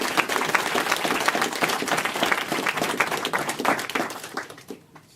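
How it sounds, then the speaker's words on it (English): An audience of veterans and guests at a gathering in Kyiv breaks into loud, dense applause that holds steady for several seconds before thinning and fading out at the end. "So could we give our veterans a round of applause?"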